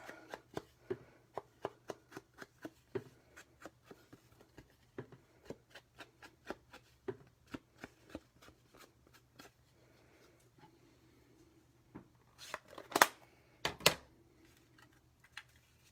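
A sponge dabs ink onto paper for handmade card making, producing a rapid series of soft, close tapping and brushing strokes, with a few louder scuffs near the end.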